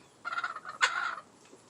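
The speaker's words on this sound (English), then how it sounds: "this is my chickens and my ducks, my hens" Poultry on a pioneer homestead, where chickens and ducks are kept together, let out a short burst of gobbling, rattling calls close by, loudest midway and then trailing off into quiet.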